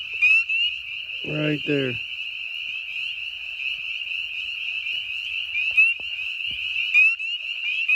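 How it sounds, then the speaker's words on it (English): Spring peeper frog calling at night, a steady, piercing high peep repeating close by throughout, with someone speaking briefly near the start. "There's a peeper calling."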